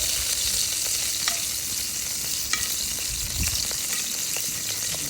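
Squirrel meat browning in a pot for gravy, a constant close sizzle and crackle with occasional soft stirring scrapes and knocks, no voices.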